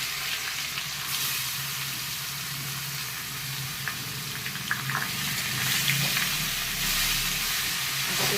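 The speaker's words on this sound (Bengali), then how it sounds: "এই যে চাল কুমড়োটা ঘি গরম হয়ে গেছে এটা আমি দিয়ে দিই" Pieces of ash gourd fry in hot ghee for a halwa, giving a loud, steady sizzle close by with occasional scraping stirs and no voices.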